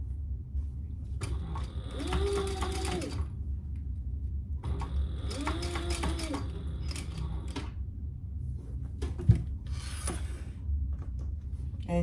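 A sewing machine top stitches a laptop bag at a one-eighth seam allowance, running in two short mechanical bursts with a pause between, fairly close and steady.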